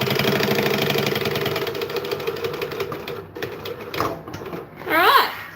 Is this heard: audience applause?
no